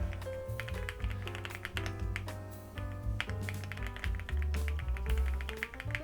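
Rapid clicking keystrokes on a BATKNIGHT BK75 mechanical keyboard tap away over soft background music.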